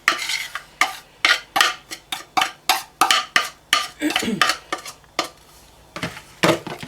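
A spoon mixes boondi raita with yogurt, onions and fresh coriander in a bowl, making a steady series of close, loud scraping clinks roughly twice a second against the dish.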